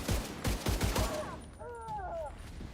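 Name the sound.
gunfire in video game The Division 2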